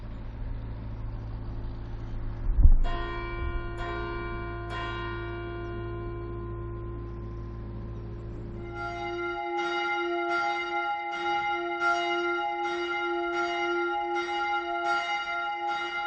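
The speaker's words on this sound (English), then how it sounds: "Several times a day, the bells are rung to signal the start of prayers." Church bells at Pluscarden Abbey ring to call the monks to prayer: a steady series of resonant, evenly spaced strikes with long ringing tails, over a low background hum that fades partway through.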